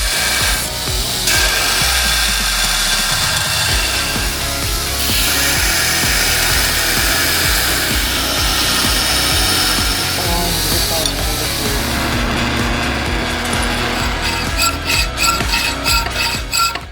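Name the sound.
belt sander grinding a forged steel knife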